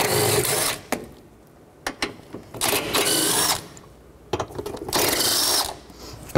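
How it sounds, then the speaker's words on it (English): Ratchet with a 10 mm socket turning out mounting bolts during starter replacement on a 2006-2012 Toyota RAV4, heard as close, rapid clicking bursts in several separate runs with short pauses between. "You get three mounting bolts, 10 millimeter socket. Take the bolts out."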